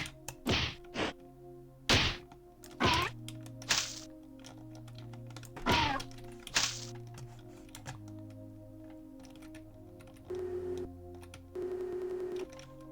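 Grenade launcher in the first-person shooter Marathon firing repeatedly, sharp thumping shots at irregular intervals with clicky mechanical clatter between them, followed by a couple of sustained whirring effects near the end.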